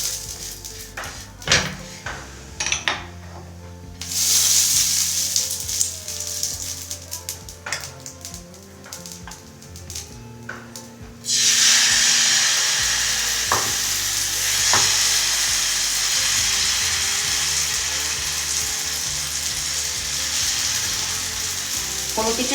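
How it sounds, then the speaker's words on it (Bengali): Mung dal patishapta batter sizzling in ghee in a pan, a steady close frying hiss with scrapes and utensil knocks, growing louder and denser about halfway through. "চলুন এবার এগুলোকে আমি ভেজে নিই।"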